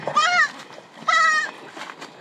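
A goat bleats twice, close and loud, each cry a wavering nasal call of about half a second, with faint background noise between them.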